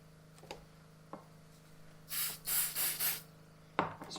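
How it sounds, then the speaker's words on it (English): CA glue accelerator (kicker) sprayed onto a model turbine glider during assembly, three short close hissing bursts in quick succession, with a few light clicks before and after. "Spray some kicker"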